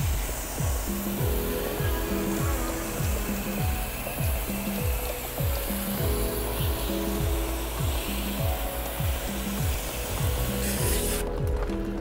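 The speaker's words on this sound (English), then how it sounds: "So we're gonna wash the coil, rinse the coil out first, and then I'll do the wheel underneath as well." Pressurized spray rinsing the coil of a ductless wall-mounted air conditioning unit during deep cleaning, a loud continuous hiss with a steady rhythmic pulsing underneath, filling the whole span.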